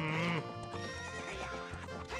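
A horse in the video game Zelda Ocarina of Time gives a loud whinny, followed by rhythmic clip-clopping hoofbeats layered with game music.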